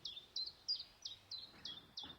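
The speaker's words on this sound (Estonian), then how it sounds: "Peoleo." Golden oriole calling at dawn, a series of about seven short, clear whistled phrases repeating at a steady rhythm, moderately distant and alone.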